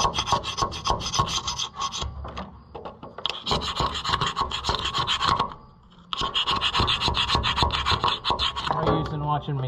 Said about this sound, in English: we're gonna try the old carbide scraper to Jeez, that's gonna be a lot of scraping.